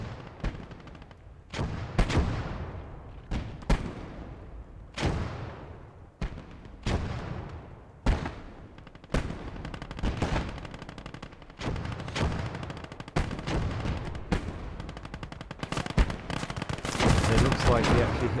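Gunfire and a mine blast sound in Gates of Hell, a World War II strategy game, during a town battle against a tank: a long run of sharp, echoing shots and bursts, some loud and close, some farther off, ending in heavier continuous firing.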